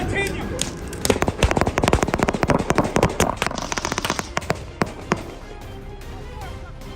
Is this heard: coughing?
no